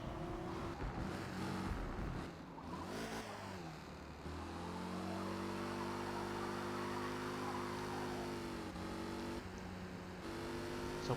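A race car engine sounds in heavy rain in the Forza Motorsport video game; tonal engine notes rise and fall through gear changes over a constant wash of rain noise.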